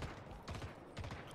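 Rapid bursts of gunfire from the online shooter Splitgate, loud and dense with several clustered volleys in quick succession, filling the whole moment with no talk over it.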